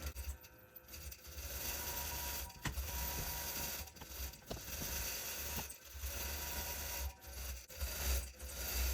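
A sewing machine runs slowly while couching yarn, a soft repetitive mechanical whirring and clicking, close and quiet, with brief pauses and shifts in pace.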